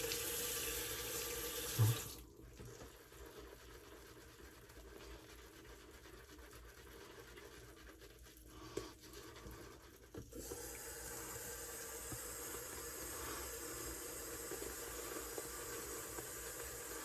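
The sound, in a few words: water running from a tap for shaving lather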